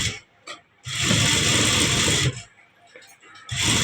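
Sewing machine stitching along the folded edge of a churidar collar, two sustained bursts of whirring motor and needle clatter separated by brief pauses, close and loud with a voice talking in the gaps.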